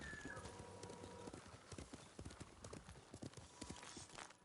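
Horse hooves clip-clop steadily in a video game, a quick irregular run of hoof strikes over faint ambient sound.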